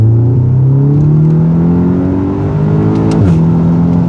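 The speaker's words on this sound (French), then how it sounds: "Ah, les passages de rapport, c'est exceptionnel quand même. En rétrograde." A car engine revs through a series of downshifts on the highway, the pitch stepping and sliding between gears with a sharp blip near the end, loud, close and continuous.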